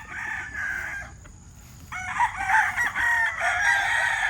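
A gamecock rooster crows loudly and close by, two drawn-out crows separated by a short pause, with faint background noise.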